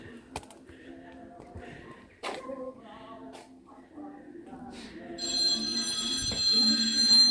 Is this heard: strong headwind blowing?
no